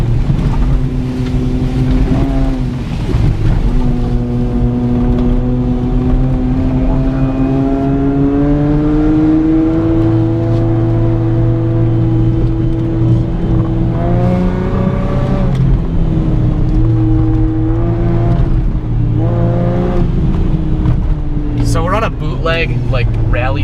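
A Honda car with a loud aftermarket exhaust drones close by in first and second gear, its note rising and falling through revs under steady cabin noise, with people talking over it.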